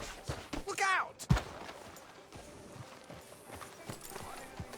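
Horse hooves clip-clop in Red Dead Redemption 2, a rhythmic clatter beneath game dialogue, with a horse whinny and a sharp thump early on.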